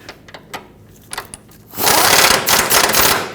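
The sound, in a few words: tightening bolts on Kia Sorento sway bar bushings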